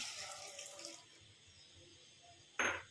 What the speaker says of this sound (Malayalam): കുറച്ച് വെള്ളം നമ്മൾ ഒഴിച്ചു കൊടുക്കുകയാണ്.